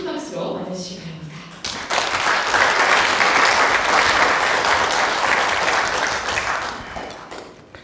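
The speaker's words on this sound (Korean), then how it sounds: "여러분 큰 박수로 맞아주시기 바랍니다." A forum audience breaks into applause to welcome a speaker. A voice talks briefly at first, then loud, dense clapping fills the room and tapers off toward the end.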